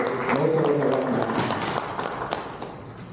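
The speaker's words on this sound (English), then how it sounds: "Please, let's give a round of applause for the organizers" An audience applauds the organizers at a siyum masechta gathering, a Torah study completion event. Steady, moderately loud clapping mixes with a speaking voice that fades out early.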